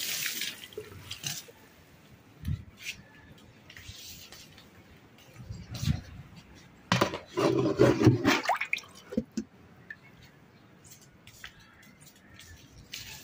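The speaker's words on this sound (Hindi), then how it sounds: "जितने भी हमारे ये सारे पौधे हैं इसके अंदर हमने डाल दिए पानी" Water is poured onto potted plants, with irregular splashing and trickling that swells into a louder gush around the middle before tapering off to quieter drips.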